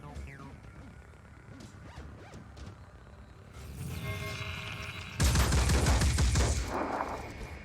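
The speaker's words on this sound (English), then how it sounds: "Damn turrets." Turret gunfire in the strategy game Phoenix Point: mechanical whirring builds, then a loud, sustained burst of rapid fire erupts and roars on for over two seconds.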